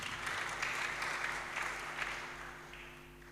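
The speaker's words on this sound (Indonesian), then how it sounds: "Tepuk tangan bagi Tuhan Yesus Kristus." Sustained clapping from a church congregation during a Sunday service, steady and fairly loud throughout, with no voices standing out.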